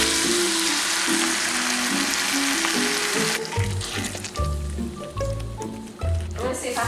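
Ground beef fries in a pan with a steady close sizzle, joined partway through by tonal music and voices that partly cover the hiss.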